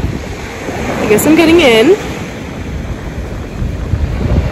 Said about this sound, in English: I don't wanna say that I came all the way to the Mexico beach without getting in the water